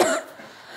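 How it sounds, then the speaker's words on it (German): A single short, harsh cough from someone exposed to pepper gas, close and loud, fading quickly into a quiet room. "Also wir haben alle jetzt Husten und Niesen."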